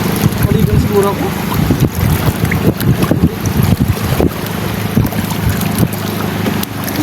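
Diesel motorboat underway on open water, a low engine drone buried under heavy gusting wind buffeting the microphone and splashing waves, steady and close, with occasional voices in the background.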